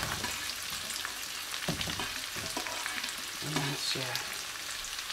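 Celery and onion frying in a pan give a steady close sizzle with stirring scrapes, while a voice says a brief word partway through.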